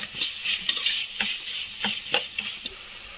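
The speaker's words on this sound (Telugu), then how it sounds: "ఇప్పుడు కొంచెం జింజర్ పేస్ట్ వేసుకోవాలి. పచ్చి వాసన పోయేంత వరకు ఫ్రై చేస్తూ ఉండాలి" Ginger paste frying for a mutton curry, a close sizzle broken by quick rhythmic scrapes and taps of a spoon stirring against the pan, with no talking.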